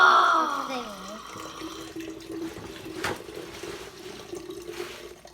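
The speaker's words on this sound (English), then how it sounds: "And then we are going to pour the water into the thingy." Water is poured from a tap into a container for a density experiment, a rising gurgle at first, then a steady close trickle with a person talking over it.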